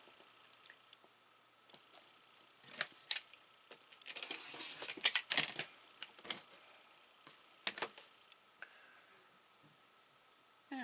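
A fabric quilt block for a puppy-dog design is sliced in half, giving a few soft, scattered crisp snips and rustles of cloth that come close up and fairly quiet, with no talking.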